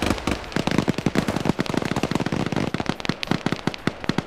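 Rapid bursts of gunfire and explosions from a PvP match in the Arma video game, with grenades going off among dense, crackling pops that run nonstop at close range and loud volume.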